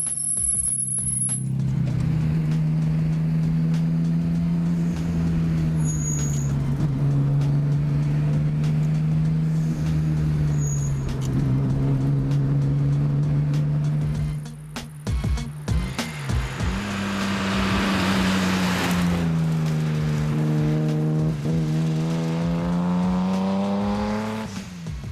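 Toyota Supra with an HKS twin-turbo engine driven hard on a winding road, its engine droning steadily, then a brief dip around a gear change before revving back up loud and close, with no talk.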